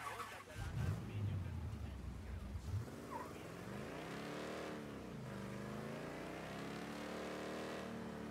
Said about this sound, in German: Unsere Karre hier.